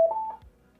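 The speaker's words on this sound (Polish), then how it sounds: "Jest sygnał połączenia." A Bluetooth speaker's connection tone chirps once as a short electronic beep and cuts off quickly, clean and close, leaving near silence.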